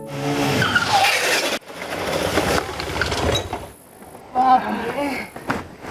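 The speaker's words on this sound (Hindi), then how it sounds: "इतनी तेज बाइक चलाते हैं का?" A motorbike ridden fast with tyres skidding: loud engine roar and screeching tyre squeals in bursts, with a brief lull before another sharp skid, amid background voices.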